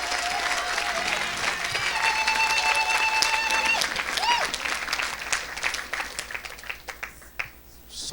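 Applause rises from a church congregation and mixes with voices and music, then thins into scattered claps near the end.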